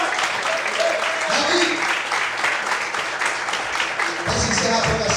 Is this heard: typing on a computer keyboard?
no